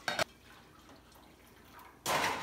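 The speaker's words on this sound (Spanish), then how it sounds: "Y ya que lo tengamos adentro, entonces voy a agregar el agua." Water poured into a baking dish around a flan mold set in the middle of an oven, heard as two short splashing bursts at the start and end with quiet between.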